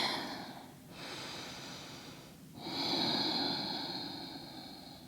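Slow, audible breaths through the nose during a yoga hamstring stretch in a power yoga flow, one long exhale followed by a deeper, slightly wheezy inhale, close and steady, with no talking.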